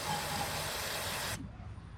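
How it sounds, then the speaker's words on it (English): A silicone lube can sprays onto a heater core tube on a 1998 Ford Ranger XLT, a steady close hiss lasting just over a second that cuts off abruptly into quiet. "I'm going to be spraying some silicone lube"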